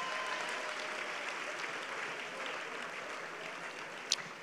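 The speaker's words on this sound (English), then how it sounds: "Clap your hands for Jesus" A church congregation claps along during a sermon, a steady wash of many hands applauding together at moderate distance, with a brief sharper clap near the end.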